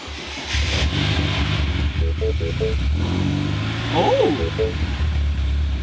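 A Mini car engine with a newly fitted exhaust cranks and fires up close by, settling into a steady idle with a couple of light revs, while a voice exclaims briefly.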